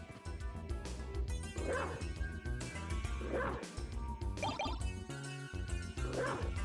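Dog barks and yips in Castlevania: Symphony of the Night, short repeated bursts at a steady pace, sitting quietly over loud game music with a driving beat.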